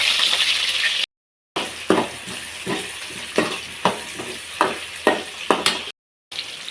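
Chopped onions hitting hot oil with cumin seeds in a home kitchen pan, a steady close sizzle broken by repeated stirring scrapes and clinks, two brief dropouts.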